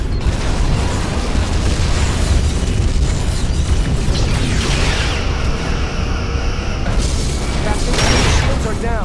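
A Romulan vessel exploding in Star Trek: Legacy on Xbox 360, with heavy booming blasts and crackling debris over dense ship combat noise. Voices speak over parts of it.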